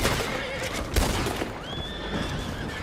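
A horse neighs loudly in a video game, a long whinny rising over faint hoof clip-clop and background game noise.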